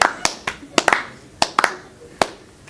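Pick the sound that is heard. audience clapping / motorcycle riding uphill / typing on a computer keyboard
audience clapping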